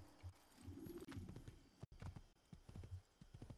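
Horse hooves clip-clopping at a walk in the video game Assassin's Creed, a quiet, regular beat of soft thuds close by with brief interruptions.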